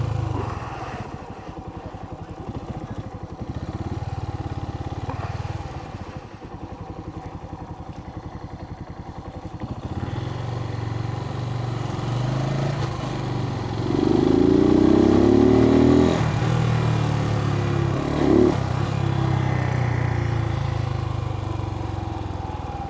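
A Suzuki TU250x motorcycle idles and rolls through downtown streets, its low single-cylinder engine chugging steadily up close, with a brief rev around the middle and light clatter throughout.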